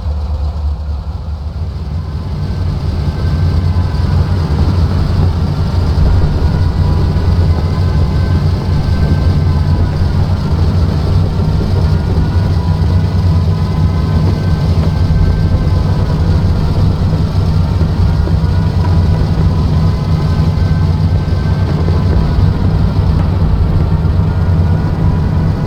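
Steady droning hum of P-47D Razorback aircraft engines idling on a WWII airfield in a flight simulator, continuous and fairly loud with a low rumbling tone throughout and no talk.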